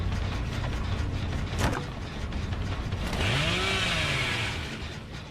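Bubba's chainsaw in a Texas Chain Saw Massacre-style video game, a mechanical rattling and whirring with a rising then falling engine whine, moderately loud and close, with no talking.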